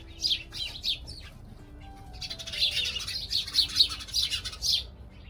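Sparrows chirping in Central Park in New York City in snowy weather, a flurry of quick high tweets in bursts, with a livelier cluster of overlapping calls in the second half, fairly close, no talking.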